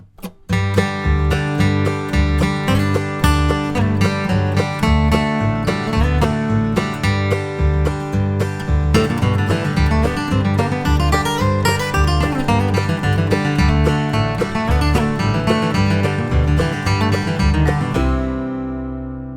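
A bluegrass lick rings out loud and clear as quick, bright plucked-string notes over a steady rhythmic accompaniment, ending with a sustained chord.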